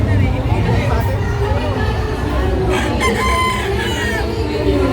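Roosters crow loudly and repeatedly at a game farm booth, with hens clucking, amid a steady babble of people talking nearby at a busy poultry event.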